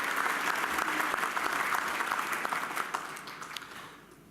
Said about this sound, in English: Please give another big round of applause for Tāne Nui o Rangi Hubbard